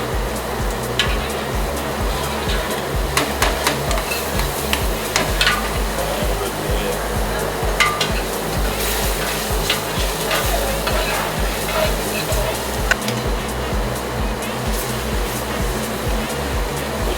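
A thick pepper jam with a little water sizzles and bubbles steadily in a hot pan, with occasional stirring scrapes, close up and continuous throughout.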